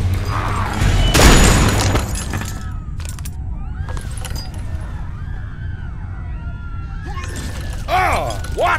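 A loud, close gunshot blasts out in The Walking Dead 400 Days video game, followed by a tense, quieter game soundscape with metallic rattles and later scattered noise.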